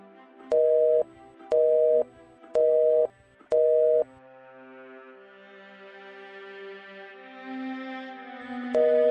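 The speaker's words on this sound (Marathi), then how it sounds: "फोन करून पाहतो." A telephone call signal sounds as four evenly spaced, loud, clean beeps, followed by a sustained lower ringing tone that swells slowly before another beep returns at the end.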